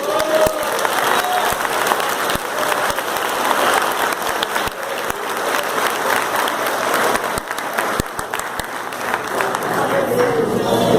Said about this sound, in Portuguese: Vocês podem aplaudir o Senhor Jesus Cristo.